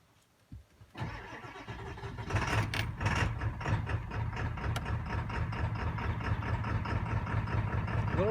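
A Ford 7.3 Power Stroke diesel engine running on homemade E fuel cranks and fires up, then settles into a loud, steady, slightly rough idle close by, with no talking.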